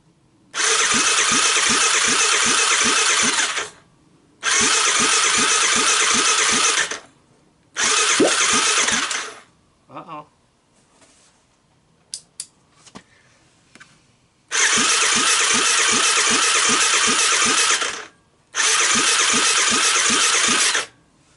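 A trash-picked Honda ATC 250ES motor with the choke on is cranked over in long, loud starter bursts, each a few seconds long, separated by quiet gaps with small clicks and knocks.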